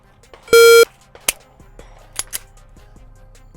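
A Mantis X10 Elite shot timer sounds one loud, sharp electronic buzzer beep of about a third of a second, followed by a few faint clicks and taps in a quiet room.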